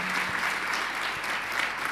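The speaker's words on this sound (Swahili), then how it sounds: "clap your hand before the Lord God." A church congregation claps hands together in a dense, continuous burst of applause at a Sunday sermon, loud and sustained throughout without pause.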